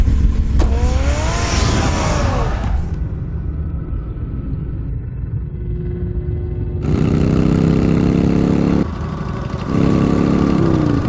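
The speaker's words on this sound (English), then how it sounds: "Get the car ready, Alfred." A car engine in Batman: The Telltale Series rumbles and revs with a rising whine, drops to a low idle, then surges again in loud, close bursts.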